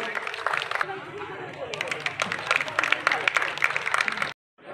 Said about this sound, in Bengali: একটা করতালি হবে এই সুন্দর মুহূর্তটাকে তুলে ধরার জন্য।